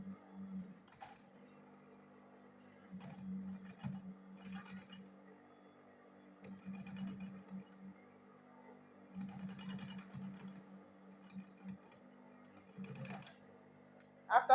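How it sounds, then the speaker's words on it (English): A sewing machine stitches the front pocket onto a ladies' backpack in bursts of steady humming runs, with pauses between passes while the fabric is turned. "So let me go ahead and sew it."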